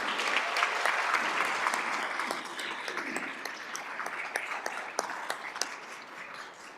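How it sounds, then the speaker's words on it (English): Audience applause at a school district governing board meeting, a steady wash of many hands clapping at moderate level, with distinct sharp claps poking through and the sound thinning and tapering slightly toward the end. "I want to give them a round of applause"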